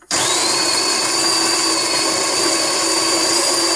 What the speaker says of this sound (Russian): Так, я начинаю с крупного помола, чтобы сильно не зажать изначально кофемолку. Включаем.